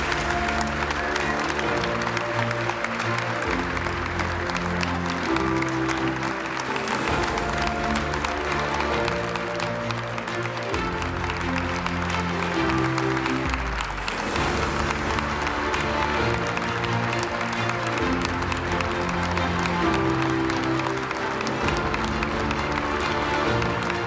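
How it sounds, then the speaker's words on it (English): Loud, continuous applause from a large crowd at a European political party congress in Valencia, clapping steadily throughout while upbeat music with a pulsing beat plays underneath and some cheering rises in the mix. "please, welcome to this stage with a big round of applause"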